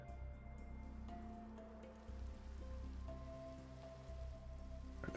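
Steady rain falls in Minecraft, a constant soft hiss of drops pattering on surfaces, fairly faint and continuous with no one talking.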